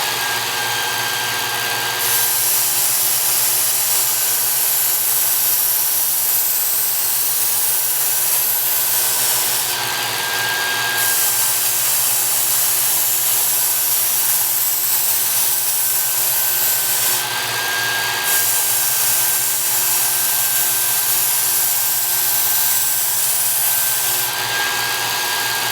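A Work Sharp Ken Onion belt sharpener grinds a knife with an X4 belt, giving a steady, loud abrasive whir that runs continuously, with brief pauses as the blade is lifted between passes.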